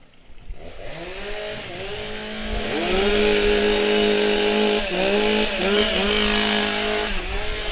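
STIHL chainsaws warming up at a timbersports championship, engines revving and rising into a loud, sustained buzzing drone with repeated pitch swells as several saws run together outdoors.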